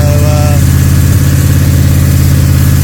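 A Ford 302 Cleveland V8 idles loudly and close by, with a steady, even engine throb that doesn't change. A brief faint whine sits over it at the start.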